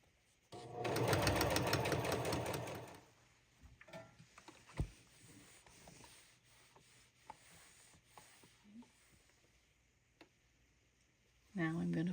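A sewing machine stitches a folded waistband along the seam line of a circle skirt made from a tablecloth, whirring steadily for about two seconds, then quiet fabric handling and clicks before a short final burst of stitching.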